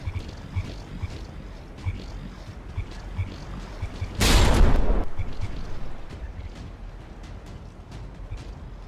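Naval guns fire in a From The Depths frigate tournament battle between the Papel and the Kolibri, a single loud burst of gunfire or explosion rising midway over a steady rumbling background of distant combat.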